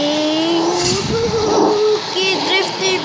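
A Ferrari revs and skids through a drift in Minecraft, the engine tone rising and falling with brief tire squeals, loud and close beneath a voice talking over it.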